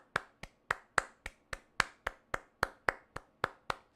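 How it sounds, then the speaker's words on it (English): Slow, evenly spaced claps from a single person or small group, about fourteen sharp, close hand claps in a steady rhythm with quiet between them. "Could you get a round of applause, please?"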